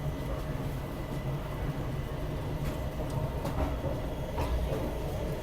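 Passenger train rolling out of Tirunelveli on the Madurai to Trivandrum route, a steady rumbling drone inside the carriage with faint rhythmic wheel clicks and occasional metallic rattles.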